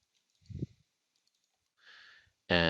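A few sparse, soft clicks from a computer mouse while opening folders, isolated and close, with a brief burst of louder sound at the very end.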